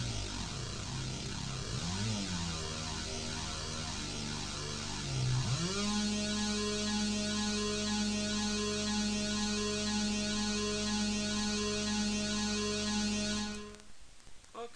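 Psytrance synthesizer patch with recorded automation: a dense, buzzy sustained tone whose pitch glides up twice and then settles into a bright, evolving drone, before cutting out near the end.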